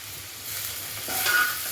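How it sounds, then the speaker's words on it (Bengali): Soft frying sizzle of tomatoes added to fried potatoes in a pan, swelling slightly louder near the end, with no talking. "টমেটোগুলো একটু ভেজে নিয়ে"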